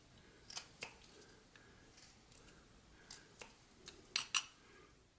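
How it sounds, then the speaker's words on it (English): A homemade whittling knife cuts stop cuts into wood, giving a dozen or so short, crisp snicks and clicks in an irregular rhythm, faint and close, with no talking. "Just creating a little bit of a a stop cut up to those lines I made."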